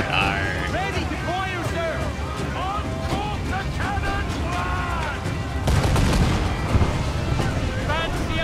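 Ship cannons firing in the Assassin's Creed 4 video game, with booming blasts and rumbling gunfire over game music, growing louder and heavier partway through, while a person talks over the action.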